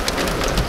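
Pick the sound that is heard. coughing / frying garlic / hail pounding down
hail pounding down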